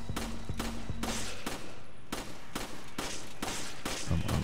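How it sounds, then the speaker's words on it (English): Rapid gunfire from a clip being emptied in the video game Resident Evil 5, with about ten sharp, loud shots in uneven bursts and no talking. "I'm unloading this clip."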